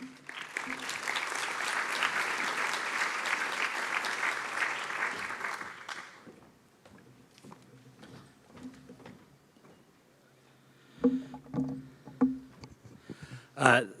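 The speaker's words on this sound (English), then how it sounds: "Please give a warm round of applause for Pat Conroy." An audience applauds in welcome for Senator Pat Conroy, steady clapping for about six seconds that stops abruptly, followed by quieter room noise and some scattered knocks and shuffling.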